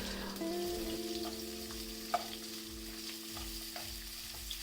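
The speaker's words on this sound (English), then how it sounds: "add in about 2 medium-sized sliced onions and saute it on medium fire until translucent" Two medium sliced onions sautéing in hot oil over medium heat, a soft, even sizzle with occasional stirring sounds, fairly quiet and close, with a faint tonal hum in the background and no speech.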